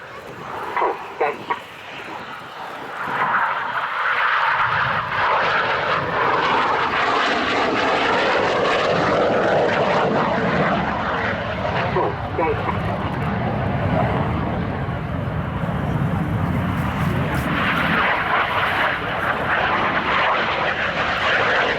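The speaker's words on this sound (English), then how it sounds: "Synchro now flying down the hill at 400 miles an hour apiece, back to 100 feet above the runway." Red Arrows RAF BAE Hawk T1 jets of the Synchro pair scream low past the runway at an air tattoo, a loud sustained roaring jet rush that swells and holds, with a brief commentary voice at the start.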